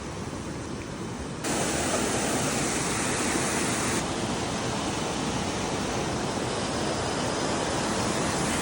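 A hillside stream near the path to Koteshwar in Nepal rushes steadily, a loud, broad wash of flowing water that swells slightly after a moment and then holds constant.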